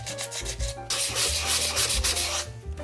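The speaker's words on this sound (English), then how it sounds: "I sand down the whole tin so that the polymer clay and the paint will adhere better" A metal tin is sanded down by hand, producing a rough, close, loud scraping rub in repeated strokes with no pauses or talk.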